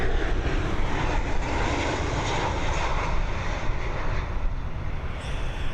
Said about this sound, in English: It's a Boeing 737 operated by TUI.